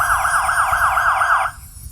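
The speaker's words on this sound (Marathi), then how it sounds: "पोलीस गाडी आहे." A police car siren wails in a fast, loud, warbling tone for about a second and a half, then cuts off abruptly.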